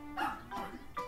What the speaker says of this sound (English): The dog!